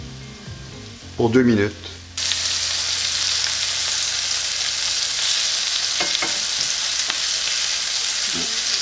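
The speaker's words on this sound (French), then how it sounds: "c'est doré d'un côté, vous le tournez, vous le faites dorer de l'autre côté" Chicken pieces brown in a pan for a spicy creamy chicken dish, giving a loud, steady, dense sizzle of frying that continues to the end after a brief voice and some clatter at the start.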